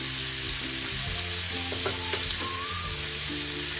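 Prawns frying in an onion masala, giving a steady close sizzle and crackle with a few small pops and scrapes from stirring, and no one talking.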